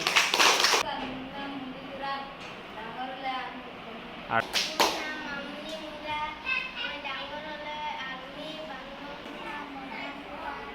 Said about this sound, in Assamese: পুলিচ হ'বা, বঢ়িয়া। হাত চাপৰি দিয়া।